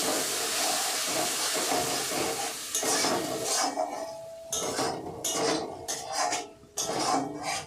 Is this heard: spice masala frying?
yes